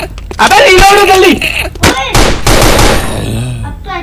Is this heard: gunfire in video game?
yes